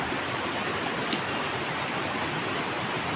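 A strong stream current rushes steadily past a creek bank lined with bamboo, a dense, continuous broadband wash with no pauses, close and fairly loud, with no voices over it.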